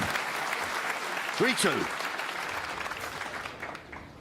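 Snooker crowd at the 2024 World Championship quarter-final between Ronnie O'Sullivan and Stuart Bingham applauds a shot with steady clapping that fades toward the end, while a commentator speaks over it.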